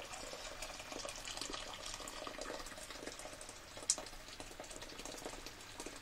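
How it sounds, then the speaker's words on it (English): Hot water poured into a pot for space dyeing wool, a steady continuous splashing and trickling of liquid, close and moderately loud, with no talking. "I'm going to put some of that in as well, just to speed up the process."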